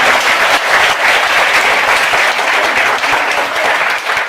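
Loud, steady applause fills a comedy show hall, the whole audience clapping together in a dense, even wash that holds throughout.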